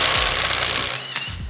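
A Ryobi power tool works on a car wheel lug nut, giving a loud, close, rapid hammering rattle that dips briefly near the end before kicking back in.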